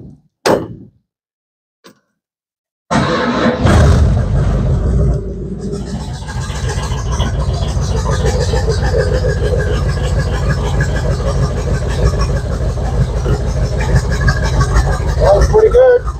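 A Bombardier snow vehicle's engine, fed from a low tank of gas, cranks briefly after a few faint clicks and then catches, running steadily with a loud, rough rumble that holds for the rest of the clip.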